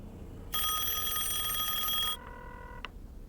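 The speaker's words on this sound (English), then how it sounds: "the phone just continued to ring" An old telephone bell rings in a single burst of about a second and a half, followed by a softer fading tail and a small click, fairly quiet against a low background hiss.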